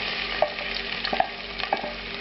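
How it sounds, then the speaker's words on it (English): Onions fry in hot oil in a pan with a close, even sizzle, broken by a few sharp pops and light stirring clicks. "I'm going to add the onions"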